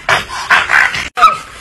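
Two dogs heard through a phone playing an online clip, giving a quick run of close, loud yips, barks and panting in short bursts with a brief gap.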